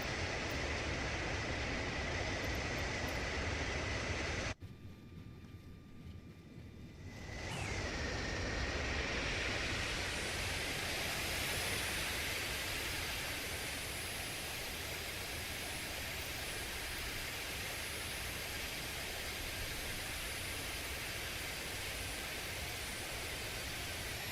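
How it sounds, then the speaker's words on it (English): An Embraer E170 jet in a flight simulator game makes a flyby, a steady broadband engine roar that cuts out abruptly for a few seconds, then swells back with a rising whine and settles into a constant rushing drone. "Let's do a little flyby right here."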